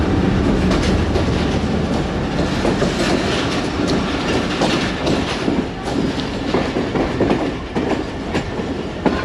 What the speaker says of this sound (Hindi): सामने आप लोकोमोटिव देख रहे हैं 4909 GMCU 15